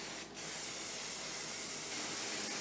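Coating sprayed onto a boat seat pedestal base, a loud continuous close hiss of spray with a brief break near the start.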